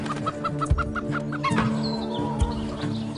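Ex-battery domestic hens clucking close by in a quick run of soft repeated clucks, then scattered lower calls and rustling, with no talk over them.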